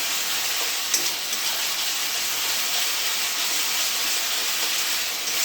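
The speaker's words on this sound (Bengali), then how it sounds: "ভালো করে কষে নিতে হবে মশলাটাকে।" Spice paste for a rohu fish curry frying in a pan, giving a steady loud sizzle and hiss that runs alone throughout.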